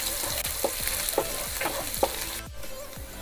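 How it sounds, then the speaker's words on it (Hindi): Onions fry in a pan for vegetable daliya with a steady soft sizzle, broken by a few scraping strokes from a spoon stirring them. The sound is fairly quiet and close, with no talking. "अब इसमें मिलाएंगे प्याज, और प्याज को हमको सुनहरे रंग होने तक भूनना है।"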